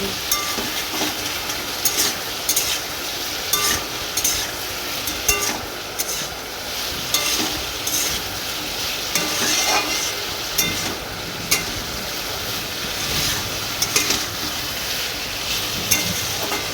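Ground cumin paste fries in a pan in a village kitchen, a continuous loud sizzle broken by repeated stirring scrapes and knocks throughout.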